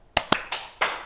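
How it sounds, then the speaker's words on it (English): A few sharp, separate claps ring out for a classmate's birthday during a school morning announcement, four distinct slaps spaced unevenly with a short ring after each, fairly close and with no talking. "Let's give him a special birthday clap."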